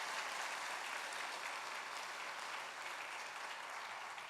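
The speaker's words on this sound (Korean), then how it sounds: "자, 박수 한번 하겠습니다." A church congregation at a Sunday service claps together in a steady wash of applause, faint and distant, continuing evenly for several seconds.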